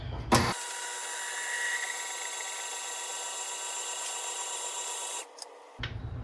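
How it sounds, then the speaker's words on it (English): Sourdough ingredients are mixed in a bowl with a steady, close scraping and rasping that runs almost unbroken for about five seconds, briefly interrupted by a louder thump at the start and a pause near the end. "Now, mix until combined."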